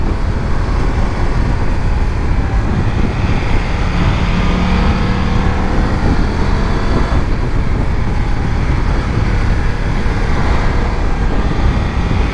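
Steady, loud engine and wind roar from a moving BMW F900 XR motorcycle, continuous throughout with no pauses.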